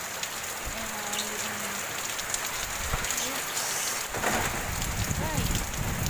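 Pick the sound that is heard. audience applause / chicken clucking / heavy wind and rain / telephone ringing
heavy wind and rain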